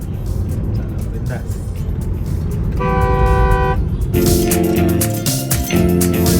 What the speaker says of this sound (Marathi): ऑटोमॅटिक गाडी चालवायची मजा आहे